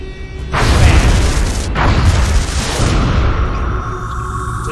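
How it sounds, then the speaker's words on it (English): Stinger missile explosions in X-Com: Enemy Within, as missiles strike and bring down a UFO: two loud, deep booming blasts about a second apart, each swelling into a long rumbling roar that stays heavy and sustained. "With just 2 Stinger missiles, we somehow take down the target"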